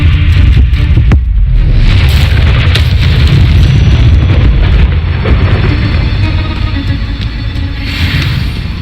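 An Incendio fire spell bursts in Hogwarts Legacy with a loud, sustained roaring blast of flame, heavy low rumble and crackle throughout, fading slightly toward the end.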